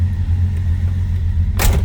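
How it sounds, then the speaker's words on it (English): A 1954 Hudson Super Jet sedan's engine runs at a steady idle, a loud continuous low rumble close by, with a brief burst of broadband noise near the end. "See how easily it starts. Good running car, fires right up."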